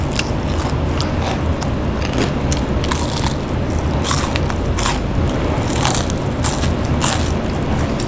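Repeated crunchy bites into crisp fried chicken, close to the mic, with crackling and scraping textures throughout and no talking.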